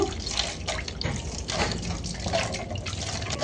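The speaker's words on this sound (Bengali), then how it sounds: "এবারে হাড়টা ধুয়ে নিব" Hands being rinsed under running water after washing with homemade neem soap, a steady close splashing and trickling with small drips throughout and no talking.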